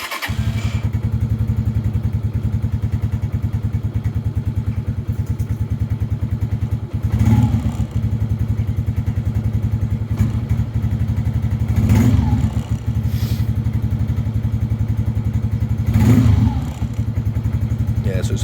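A Lifan King motorbike runs on choke at a cold, uneven idle, a steady close drone punctuated by three louder thumps and surges, with someone talking briefly.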